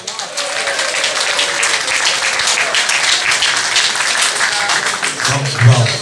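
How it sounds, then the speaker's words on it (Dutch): Sustained audience applause for the performing artists at a carnival song contest prize-giving, steady dense clapping from a hall crowd that holds for several seconds at a constant level. "Dus ook voor de artiesten een geer en applaus."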